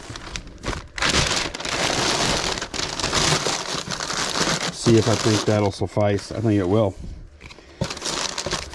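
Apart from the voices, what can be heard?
crumpling packing paper into a box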